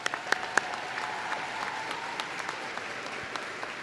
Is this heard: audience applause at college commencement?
yes